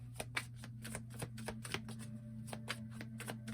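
Tarot cards being shuffled during a card reading, a steady run of crisp riffling clicks and snaps over a faint constant hum, with no talking.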